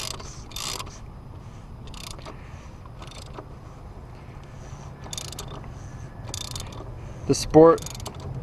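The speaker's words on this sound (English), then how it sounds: "you're just gonna go ahead and put your ratchet on there" A ratchet works on the oil filter cover of a 2003 BMW 330i with soft repeated clicks over a steady low mechanical hum, ending in a louder clunk of metal near the end.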